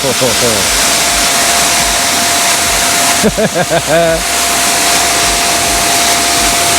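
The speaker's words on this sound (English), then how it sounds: "Karl, this is the pressure washer, fully serviceable and functional." A pressure washer runs with a loud, steady broadband hiss and motor drone, heard close, while a voice briefly talks over it midway.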